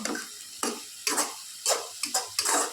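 Banana flower and potato fry in oil in a wok, with sizzling and stirring scrapes coming in repeated short bursts, close and moderately loud.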